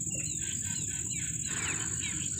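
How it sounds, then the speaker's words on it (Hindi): Birds chirp in a rural village on a rainy day, with repeated tweets over a constant high insect-like drone and low background rumble. "तो परिंदे चहचहा रहे हैं,"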